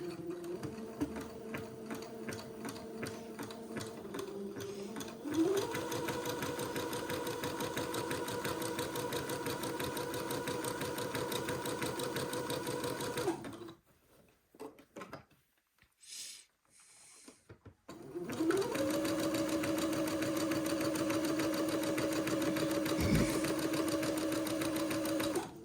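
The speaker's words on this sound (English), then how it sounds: "I've got my machine set for a zigzag, so I'm going to zigzag this little armhole seam now to finish it off." A sewing machine zigzag-stitches the armhole seam of a day gown, running with a steady mechanical whir and hum. The motor changes pitch partway through, goes quiet briefly with a few small clicks, then starts running steadily again.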